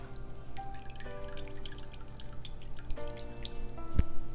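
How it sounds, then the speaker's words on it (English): Soy sauce, about a tablespoon, poured over raw ground beef in a kitchen, giving soft liquid dribbles and a few drips against steady background hum, with a sharper splash near the end. "we're gonna add"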